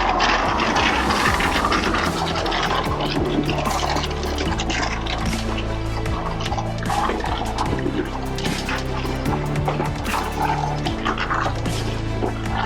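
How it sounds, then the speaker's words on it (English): Car wash tire scrub brush spinning against a tire, with a steady, dense mechanical whir and sloshing water and soap spray throughout, loud and continuous with rattling clicks. "let's do the tire scrub. That's going to take us over to this brush here."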